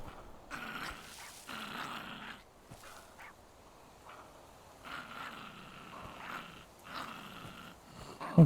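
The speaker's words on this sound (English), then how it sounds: "Stop growling and get up here." A dog in a video game growls in low, rumbling bursts with short pauses between them, with a few soft whimpers mixed in.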